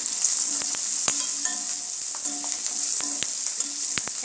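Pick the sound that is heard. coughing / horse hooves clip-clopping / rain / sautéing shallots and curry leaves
sautéing shallots and curry leaves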